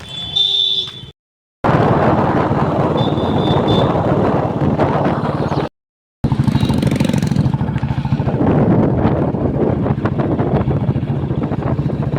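A tractor engine runs close and loud with a steady low rumble, broken by two short silent gaps, with wind buffeting the microphone and no one talking.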